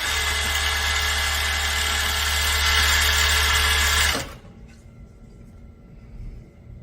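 A HONREY HR6601D coverstitch sewing machine with a top cover fitted runs fast at about 2400 stitches per minute. The steady loud mechanical whir and hum stops abruptly partway through, leaving quiet room noise.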